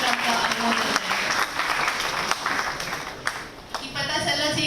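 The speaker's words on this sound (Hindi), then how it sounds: "आप सभी से निवेदन है कि जोरदार तालियों से की गड़गड़ाहट से एक बार इस पवित्र क्षण का अनुमोदन करें" Audience applause at a university Teachers Day celebration in Lucknow, a sustained burst of crowd clapping with voices talking over and through it.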